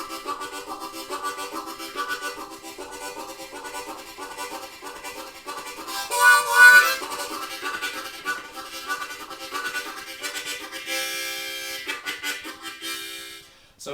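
Harmonica chugging a train rhythm in triplet pulses, steady reedy chords with a brief louder wail midway, playing alone at moderate volume.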